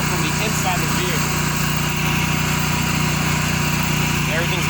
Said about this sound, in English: all that noise that you're hearing, that is the generator